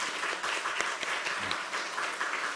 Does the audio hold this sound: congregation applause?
yes